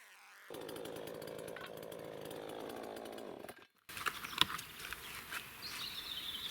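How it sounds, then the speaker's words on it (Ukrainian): A gasoline chainsaw runs loud and steady for a few seconds, goes briefly silent, then roars back with rough, uneven noise cutting an old oak beam. "я напевно візьму бензопилу і тупо її обріжу"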